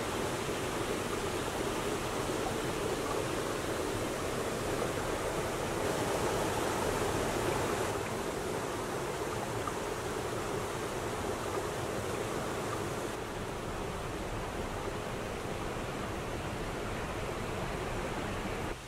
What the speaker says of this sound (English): From the parking area, the waterfall is right there.